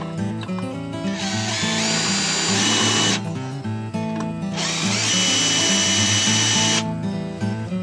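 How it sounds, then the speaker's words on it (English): A power drill bores holes for a DIY battery bike rack in two sustained, loud whirring bursts of about two seconds each, separated by a short pause, with no talk. "Now we can drill them down."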